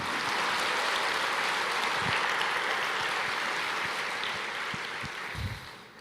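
Church congregation applauding during a sermon, a steady broad wash of clapping that holds for several seconds and then gradually fades toward the end, with a few low thumps underneath.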